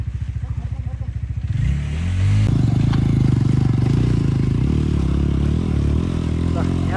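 Motorbike on a hilly road in Sailung, Dolakha, Nepal: an idling engine thumps rhythmically, then revs up sharply and holds a loud, close, steady drone with clatter, voices talking around it.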